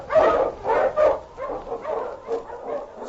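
King, a swift and strong Eskimo lead dog, barks and yelps in a run of about eight loud, close, rhythmic woofs with a whimpering edge.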